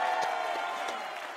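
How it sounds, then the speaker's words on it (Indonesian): A brief burst of audience applause with some laughter from a crowd at a stand-up comedy roast show, dense and steady throughout. "tepuk tangan dan tertawanya sangat banyak sekali"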